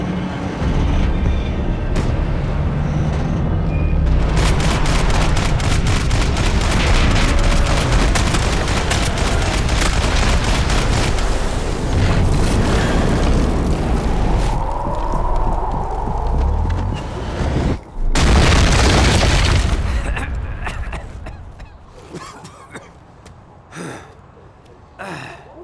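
Dense, sustained gunfire in the Max Payne 3 video game, loud and rattling for most of the stretch before thinning into scattered shots and quieter moments.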